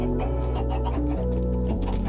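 Minecraft chickens cluck and squawk in a brief burst, close by, layered over a steady droning background.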